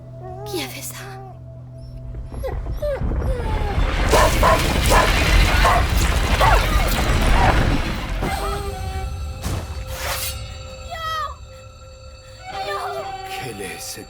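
A dog in A Plague Tale: Innocence whimpers and yelps in short whines, with a louder noisy stretch of barking and commotion in the middle, mixed with game sounds.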